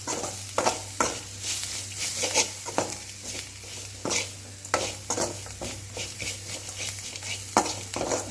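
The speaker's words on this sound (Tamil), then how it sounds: "இது நல்லா கிளறி மசாலாவோட போகிற வரைக்கும் நல்லா கிண்டு இவனை நல்லா வறுத்துக்கலாம்" Masala being stirred and fried in a pan for manathakkali keerai rice, with a steady sizzle under repeated scraping spoon strokes, close and moderately loud.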